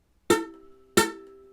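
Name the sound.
ukulele note played with too little finger pressure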